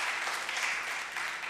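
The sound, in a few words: congregation applause welcoming a guest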